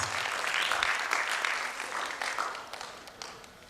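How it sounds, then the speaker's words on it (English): Steady applause from a crowd at an annual school concert, many hands clapping together at moderate distance, gradually thinning out toward the end. "I think we really need to give her a round of applause"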